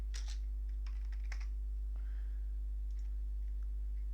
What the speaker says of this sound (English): I'm just typing it in and